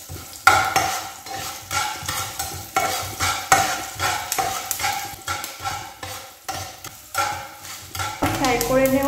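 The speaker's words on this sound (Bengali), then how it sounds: "এক থেকে 2 মিনিটের জন্য এগুলোকে আমি ফ্রাই করে নেব।" Ingredients fry in a pan while a metal spatula stirs in steady, rhythmic scraping strokes over a bright, close sizzle, with occasional clanks against the pan.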